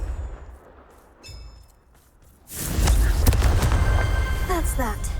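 A Confringo fire spell blasts in the video game Hogwarts Legacy, arriving as a sudden loud burst halfway through and rumbling on under explosive crackle and whooshing effects, with a voice talking in the background.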